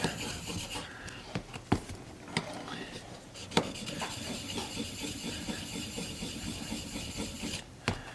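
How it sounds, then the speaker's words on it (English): A woodworking chisel is rubbed back and forth on a sharpening stone, making a faint, steady gritty scraping with occasional sharper clicks and knocks, heard up close. "you try to make sure you're making good contact with your stone on that flat spot, and you just rub it like this a couple times"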